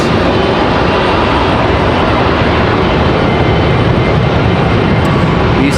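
A FedEx Boeing 767-300 freighter makes a loud, continuous, dense jet roar that holds steady throughout, with no speech over it.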